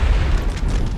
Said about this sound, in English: Artillery's firing away.